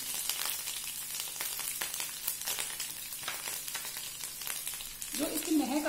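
Garlic-ginger paste and green chili frying in a pan give a continuous near sizzle with crackling spatters, which swells as more is added near the end.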